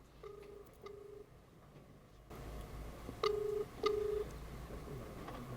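Quiet ringback tones give two short paired pulses, then a louder pair of beeps follows after a click, like a phone call connecting.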